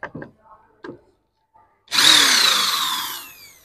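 An ACI Smart electric drill drives out a large screw, a sharp whirring buzz that starts abruptly and winds down steadily over a second and a half after a few soft knocks and a brief voice.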